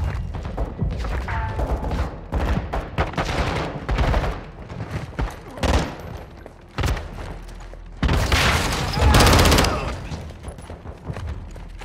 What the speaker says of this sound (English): We're taking effective fire!